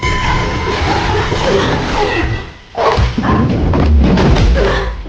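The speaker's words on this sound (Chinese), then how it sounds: "可谁成想那条罗威娜竟追了过来" A Rottweiler chases and barks in a tense film scene: loud, close barks and thuds over dramatic background sound, with a brief dip before a renewed burst of barking.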